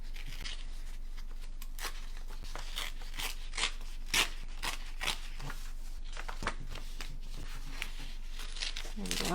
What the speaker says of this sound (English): So I'm going to paper tear this one too, leaving my green as my placeholder.